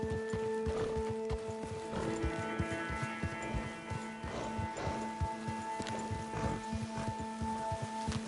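Horses plod along at a walk in a video game, their hooves clip-clopping in a steady, close rhythm over a constant droning music bed.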